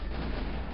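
A gunshot in the video game GoldenEye: Source, a loud, dense blast of noise filling the whole short moment with no talking.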